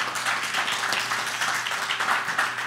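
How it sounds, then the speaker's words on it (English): Church congregation applauding, a thick, continuous wash of many clapping hands filling the room for a few seconds at a steady level. "deep-rooted round of applause?"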